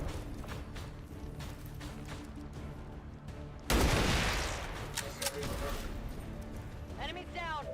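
A burst of automatic gunfire in the video game XCOM 2 erupts suddenly midway, loud and rattling, then fades into game mechanisms, with a person talking over the game throughout.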